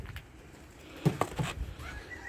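Flock of around seventy racing pigeons taking off and flying, a brief burst of wing flaps and fluttering after a quiet start, fairly close, with some soft coos.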